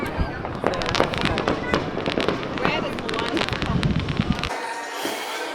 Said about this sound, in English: That's it for the fireworks.